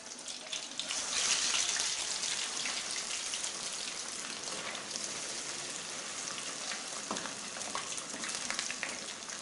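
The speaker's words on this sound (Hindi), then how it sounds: "अभी इसको अच्छी तरीके से फ्राई करेंगे। घी ठंडा नहीं होना चाहिए" Fish pieces frying in hot ghee make a steady, close sizzle and crackle, a dense hiss with scattered pops that holds evenly throughout, with no talking.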